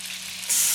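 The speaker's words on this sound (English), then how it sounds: "just frying off our bits of chicken" Chicken breast pieces fry in a wok with a steady bright sizzle that suddenly grows louder about halfway through, close up and with no talking.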